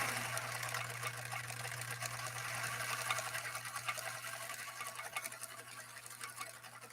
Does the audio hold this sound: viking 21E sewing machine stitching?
yes